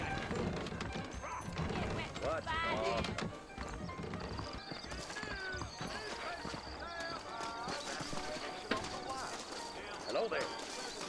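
Horse hooves clip-clop in Red Dead Redemption, a steady close rhythm of hoofbeats with a horse whinnying partway through, while characters talk over the riding.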